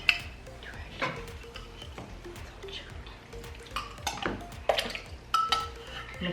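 A spoon clinks and scrapes against a medium-sized bowl as butter is mixed, giving irregular knocks and taps close by over a quiet background.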